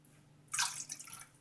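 Water from a cup poured into a bowl of cake batter ingredients, a short splashing pour that starts abruptly and trails off into a light trickle.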